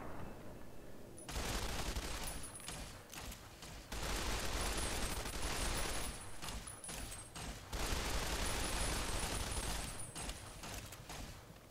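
In Fallout New Vegas, an assault carbine and alien laser weapons fire back and forth. Dense, loud volleys come in several sustained bursts with short gaps between them over roughly twelve seconds.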